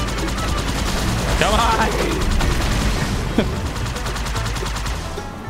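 Rapid automatic gunfire in the Halo 2 video game rattles in continuous bursts with a few heavier shots, while a player talks briefly over it.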